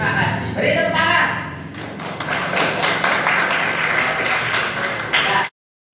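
Students in a classroom clap together during a lesson on sunnah rawatib prayer, a steady patter of hands under a teacher's voice that stops abruptly at the end.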